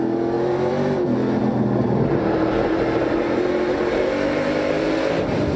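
NASCAR Pinty's Series race car on General tires at the Grand Prix of Toronto street circuit at Exhibition Place, loud engine roaring and tires squealing for traction continuously, close and sustained without talk.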